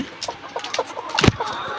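Layer hens cluck in short, clipped bursts nearby, with one louder squawk near the end.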